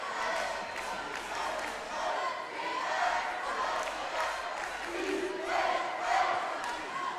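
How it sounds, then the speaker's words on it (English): Crowd noise fills a high school gym during a Friday night varsity basketball game, a steady murmur of spectators with occasional swells of shouting and cheering, no clear speech. "A good crowd on this Friday night."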